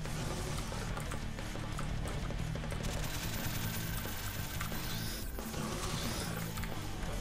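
Automatic turrets fire continuously in a third-person shooter video game, producing dense, rapid gunfire and clattering bursts that stay loud and constant throughout over a busy game soundscape.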